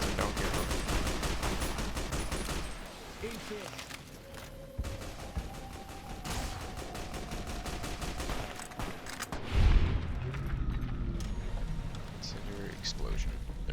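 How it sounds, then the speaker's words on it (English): Rapid explosive-round gunfire in the video game Fallout New Vegas, a quick burst of crackling shots up front, then sparser impacts and a louder blast, with talk over parts of it. "Incendiary explosion. There we go. Explosive rounds."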